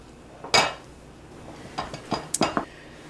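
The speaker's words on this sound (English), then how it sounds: "And I'm stirring in the flour." A spoon works flour into a yeast batter for Danish aebleskiver in a bowl, giving a sharp clink against the rim followed by several lighter scraping knocks and taps, close and distinct over a quiet room.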